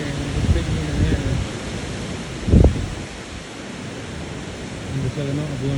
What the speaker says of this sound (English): It's windy as fuck up here